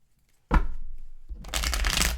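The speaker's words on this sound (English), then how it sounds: "Oh, that was a nice shuffle." Tarot cards are riffled twice up close: a short burst, a brief pause, then a longer, louder fluttering shuffle.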